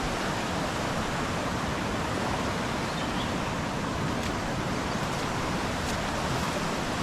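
A flooded river in a Konkan village rushes fast, a dense, steady roar of churning water filling the scene without pause.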